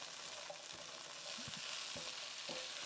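A mix of several kinds of beans warming in a pan, with a soft, steady sizzle and a few gentle stirring scrapes at irregular intervals, heard quietly and close.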